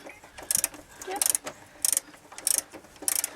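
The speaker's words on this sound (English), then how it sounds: "This is the last bolt going in." A ratchet tightens the last bolt during a Turbosmart recirculation valve fit on a Ford Focus ST, giving five quick bursts of sharp clicking at an even rhythm, close and clear over faint background noise.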